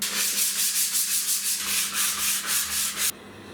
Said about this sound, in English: I spend all this time sanding this down, right, and making it look nice.